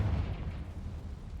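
In the game Hogwarts Legacy, a Confringo spell goes off as a short, deep, rumbling blast, heaviest at the very start and then fading into a low roar.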